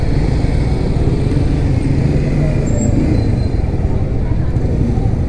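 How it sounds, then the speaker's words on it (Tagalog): Heavy road traffic on Mendiola Road, heard from a Suzuki GSX-R150 Blue Edition motorcycle weaving through buses and motorbikes: a loud, steady, dense engine rumble with no pause throughout. "traffic."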